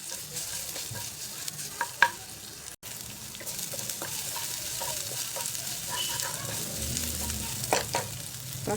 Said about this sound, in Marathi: आलं लसूण पेस्ट पण छान परतून घ्यायची